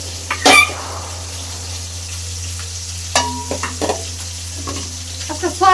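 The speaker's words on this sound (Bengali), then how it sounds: "মাছ ভাজাটা বসাই দিচ্ছি" Fish fries in soybean oil in a pan with a steady sizzle, broken by a few sharp clinks and scrapes of stirring.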